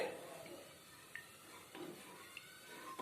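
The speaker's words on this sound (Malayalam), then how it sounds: "നന്നായി ഇളക്കി കൊടുക്കാം" Quiet scraping and soft clinks of a spoon stirring a papaya ice cream mixture in a pan on the stove, with faint sizzling underneath and a few light taps against the metal.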